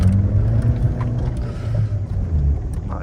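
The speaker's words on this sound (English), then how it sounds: "The engine's quite smooth." A cheap £1 car's engine rumbles steadily while driving on a lesson, a low continuous drone with slight swells, close and fairly loud, no talk over it.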